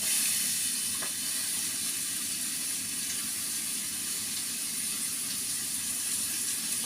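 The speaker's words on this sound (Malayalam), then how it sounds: "ഈ മസാല ഇത് വെജിറ്റബിൾ അരിഞ്ഞതിലേക്ക് വാട്ടാനിടാം കേട്ടോ" Chopped vegetables and masala sauté in hot oil with a steady, dense sizzle and hiss that holds constant throughout, close and fairly loud, with no talking.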